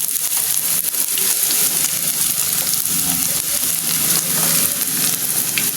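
Garlic and onion sauté in a pan for red bell pepper scrambled eggs, giving a steady, close sizzle and crackle of frying that runs unbroken throughout, with no talk over it.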